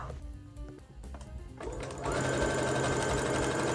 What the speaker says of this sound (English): I decided to sew a straight line in the bottom of the piece